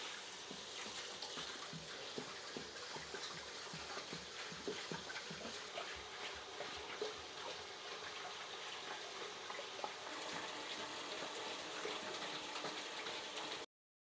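Tap water rushes from a garden hose into a 350-litre aquarium in a bedroom, a steady, faint broadband splashing and gurgling that runs unbroken throughout, then cuts off at the very end.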